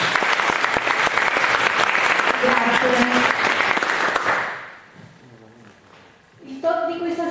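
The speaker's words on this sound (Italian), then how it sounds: "Facciamo un applauso" Audience applause at an evening talk on image classification with deep convolutional networks, a dense burst of clapping that fades after about four seconds, followed by a brief spoken thank-you.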